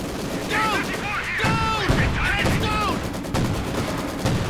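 Maxim machine gun laying down suppressing fire in the strategy game Company of Heroes 2, heard as dense rattling bursts and battle noise. A voice talks continuously over the gunfire.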